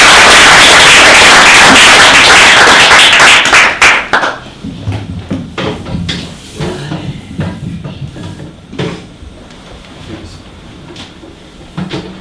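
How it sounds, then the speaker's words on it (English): Audience at a talk applauding, loud dense clapping close by for the first few seconds, then thinning out into scattered, separate claps that fade away. "Please give a round of applause for David."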